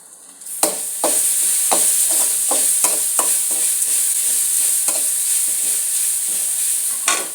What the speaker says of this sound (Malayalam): ഇനി നമുക്ക് ഈ അരപ്പിടാൻ ഈ എണ്ണയിലേക്ക് അരപ്പൊന്ന് വേവിച്ചെടുക്കാം